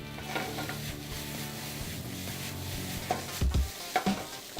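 Bacon, bratwurst and spaetzle sizzle in a pan while being stirred, a steady close frying hiss broken by scraping utensil strokes and a few louder knocks toward the end.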